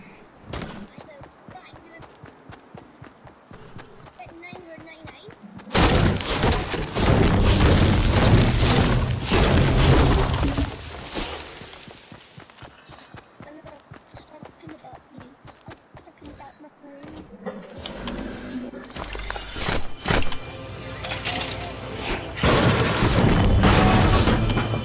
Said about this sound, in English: I'm gonna do triple hand cannon.